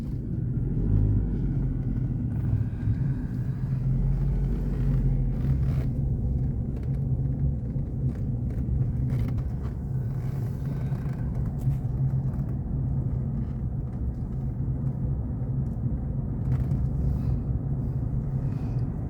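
A car driving slowly along a winding mountain road to Sapan in Nan, Thailand, a steady low engine and road rumble heard from inside the vehicle, with no talk.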